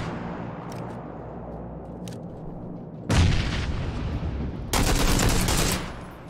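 Gunfire in the video game PUBG: two loud, close bursts of rapid shots about a second and a half apart, each ringing out briefly, over quiet ambient background.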